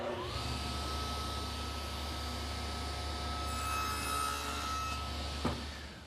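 A power saw cuts the shoulders of a 2x3 bottom rail for a chair back in a woodworking shop, its steady motor whine holding a constant pitch for several seconds before stopping, with a sharp click near the end.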